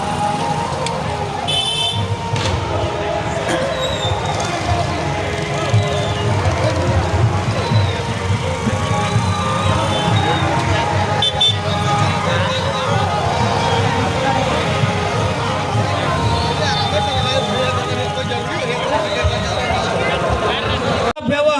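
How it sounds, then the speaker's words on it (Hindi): Large crowd gathered at an election nomination rally in Dumri, a dense continuous hubbub of many voices with background traffic-like rumble throughout. "ये दोस्तों पूरा भीड़ है अभी।"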